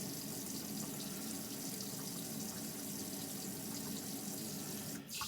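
Hot water runs steadily from a tap inside a NuCamp TaB 400 travel trailer fed by an Alde water heater, a continuous close hiss of flow that breaks off sharply near the end.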